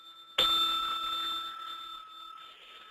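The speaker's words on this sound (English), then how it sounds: "He fumbles the bell." A bell struck once, sharply and a little awkwardly, its bright ring sounding close and then slowly fading over a couple of seconds with nothing else heard.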